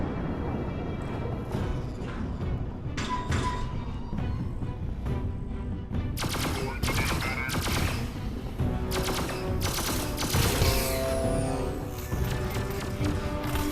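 Blaster fire in a Star Wars virtual reality game, a dense stream of rapid loud shots over continuous game noise and action sounds, with no clear talk.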